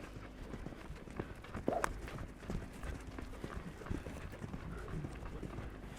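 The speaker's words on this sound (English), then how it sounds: "Let's send him off for a canter." Horse cantering on a lunge line at the Majestic West event, steady clip-clop hoofbeats in a rolling rhythm at moderate distance, with light background noise and no talk.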